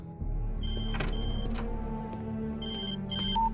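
A telephone rings inside the video game Alan Wake Remastered, a steady electronic trill with repeated bursts over a low ambient hum, heard alone without speech.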